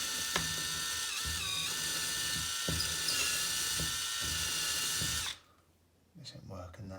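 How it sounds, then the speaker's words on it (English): A DeWalt 18V multi-tool drills into the corners of a wall socket box, a high whining buzz in several bursts with brief pitch dips, then it cuts off to quiet and light handling noises. "I'm just going to drill into each corner, nice and gently."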